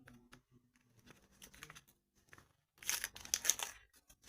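A paper packet is torn open in a short burst, crisp and close, after a few quieter rustles and small handling noises.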